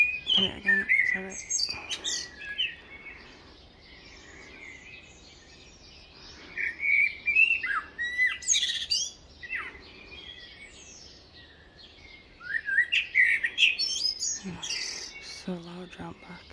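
A blackbird sings in bright, fluty phrases separated by quiet pauses, close and fairly loud, with sharp chirps mixed in.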